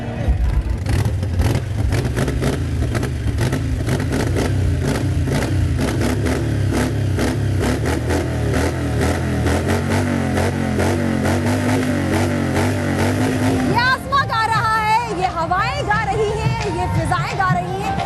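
Superbike engines rev and rumble continuously up close, the pitch rising and falling, with a rougher, shifting roar near the end.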